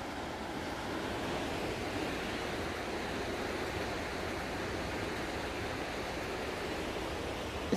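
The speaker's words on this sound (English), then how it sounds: "Just listen to that water." A mountain stream in the Great Smoky Mountains rushes beside an old covered bridge, a steady, even wash of flowing water with no voices.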